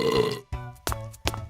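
Several loud burps from a Play-Doh toy story, a long drawn-out belch followed by two shorter croaky burps, close and alone.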